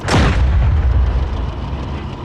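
A ZBD-04A infantry fighting vehicle fires its weapon in the DCS World combat simulator, with one loud, close boom at the start followed by a long, deep rumbling decay, and no talking.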